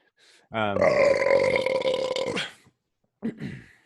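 One long, loud, deep burp lasting about two seconds, made close to the microphone during a podcast recording, followed by a brief short vocal sound.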